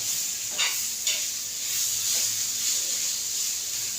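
Tomato pieces sit on a hot iron tawa, giving a soft, steady hiss with a few faint scraping stirs over it. The sound is close and moderate, with no voices.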